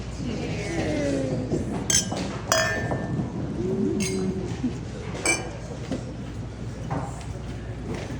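Glasses chink together in a toast at a race weekend tribute gathering, a few bright clinks rising over a murmur of crowd noise and background talk.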